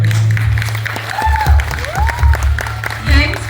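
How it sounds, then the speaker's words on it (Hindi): Audience applause and cheering at a live Mumbai pageant show, a dense crowd clapping steadily with a few whoops, while a voice rises over it in sweeping tones. "जब तक तुम्हारे लिए मुझे बहुत जोर से तालियां नहीं सुननी पड़ेगी"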